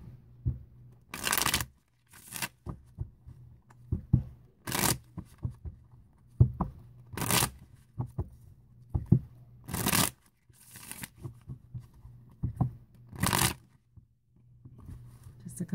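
Cards are shuffled again and again in quick riffling bursts, close and crisp, with softer handling and rustling sounds between them.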